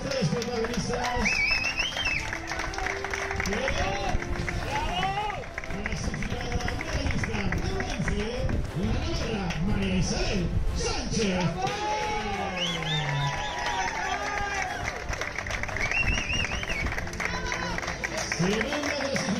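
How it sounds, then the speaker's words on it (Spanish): Crowd applause and cheering at an awards ceremony for the Spanish national championship for athletes with disabilities in Boadilla, a steady, continuous roar of claps and voices throughout. "Así que un aplauso muy fuerte a nuestras tres protagonistas"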